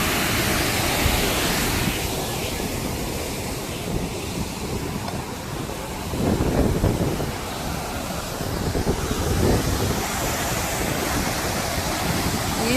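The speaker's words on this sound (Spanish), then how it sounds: "Esta es la cascada que hay, bien bonito." A waterfall roars steadily as a broad, constant rush of falling water, loud and close, with gusts of wind buffeting the microphone.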